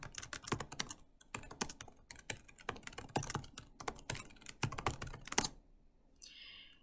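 Steady typing on a computer keyboard while writing in a Minecraft: Education Edition book, a rapid run of close, crisp key clicks that stops just before the end, with no voices.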